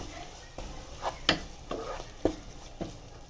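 Spoon stirring curry leaves, tempering spices and ginger garlic paste in a pan while preparing methi paneer, giving a few scraping strokes and soft sizzles spaced about half a second apart over a quiet background.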